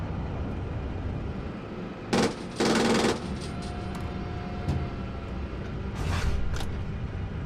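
Bursts of machine gun fire in a tank and infantry battle, short loud rattling volleys breaking through steady engine rumble, with a couple of sharp distant reports later.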